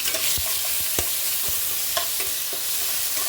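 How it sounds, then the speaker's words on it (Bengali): Onion paste fries in a pan with cumin seeds, hissing steadily while a spoon stirs and scrapes through it in irregular knocks, close and fairly loud, no one talking. "এবার দিয়ে দিচ্ছি আমি পেঁয়াজ বাটা।"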